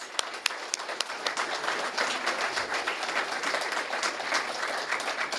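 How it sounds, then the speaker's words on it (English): An audience at a graduation celebration ceremony claps steadily, a full, sustained wash of applause from many hands in a large room, with a few sharper claps near the start. "let's give them a round of applause."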